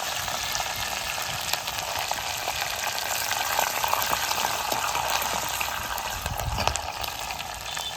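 Curry leaves and crushed garlic fry in hot oil in a pan, giving a steady close crackling sizzle with faint scrapes of stirring, continuous and without talk, for a fish curry.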